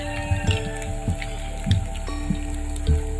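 Steady rain falls through a forest of tall trees, a constant wash with scattered louder drips and splats landing nearby, no voices.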